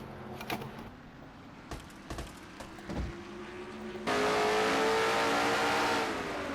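A NASCAR-style stock car in a racing video game, the NNSCRA Castrol GTX Cup Series at the Goody's Fast Relief 500, revs hard near 9,600 RPM. The engine drones steadily, then jumps sharply louder into a high, sustained whine.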